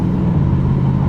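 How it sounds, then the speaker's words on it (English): A 2010 Chevrolet Camaro SS fitted with a straight-cut-gear Procharger P1SC supercharger, heard as a loud, steady engine drone and rumble from inside the car, with no talk. "Procharger is a straight cut gear, so it's kind of loud"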